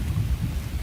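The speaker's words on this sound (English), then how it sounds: "It's thundering." Low, steady rumble of thunder with rain noise mixed in during a storm, filling the whole short moment at a fairly loud level with no voices.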